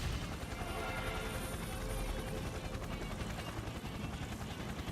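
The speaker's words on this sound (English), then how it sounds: "It means to take down that helicopter." Helicopter in the Persona 4 Arena Ultimax fighting game, a steady dense rotor roar with broadband rumble holding loud and constant throughout, no voices over it.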